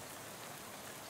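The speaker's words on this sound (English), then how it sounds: "How about this rain?" Rain falling in the video game Shadows Over Loathing, a quiet, even hiss of steady rainfall with dense patter and no voices.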